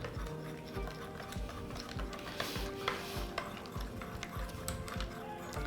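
Spoon stirring yogurt with powdered sugar for dahi bhalla, soft repeated scraping and tapping strokes in an irregular rhythm, quiet and close.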